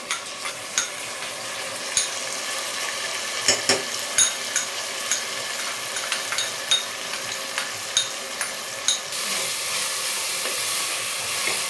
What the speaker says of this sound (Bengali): রসুন আদা এবং কাঁচা লঙ্কা, সেটা পুরোটা দিয়ে দিচ্ছি। দিয়ে আবার খানিকক্ষণ কষাবো।